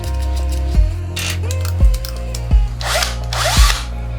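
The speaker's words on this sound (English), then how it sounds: "I've got to get a drill and undo a few screws" Cordless power drill undoing screws from a gaming desk bolted to drawers, a loud close whirring motor cut by four sharp bursts roughly a second apart, with no talking.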